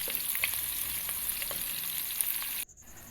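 Two large chopped onions fry in a pan with a steady close crackling sizzle and scattered pops. The sound cuts off abruptly near the end, leaving a fainter hiss.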